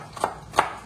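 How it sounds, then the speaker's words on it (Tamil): Two crisp knife chops on a cutting board while slicing onion, close and fairly quiet, spaced about a third of a second apart. "நம்ம அதுக்குள்ள வெங்காயத்தை நறுக்கிக்கலாம்."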